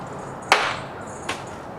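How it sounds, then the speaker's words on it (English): Acorns fall onto the roof overhead, giving two short hard knocks about a second apart. The first is sharper and louder, and both sound over a quiet background. "Those acorns are falling on the roof over my head if you can hear them."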